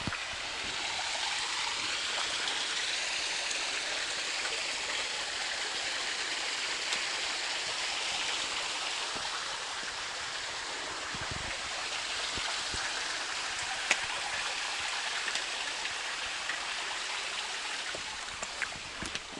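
A creek waterfall pours over slippery rocks in a steady, full rush of water that holds constant throughout, with only a few faint clicks and splashes on top and no talking.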